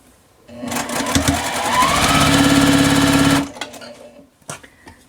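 A sewing machine stitches pieced Crown Star quilt blocks together in one steady, close, mechanical run of about three seconds, then stops, leaving a few faint clicks and handling noises.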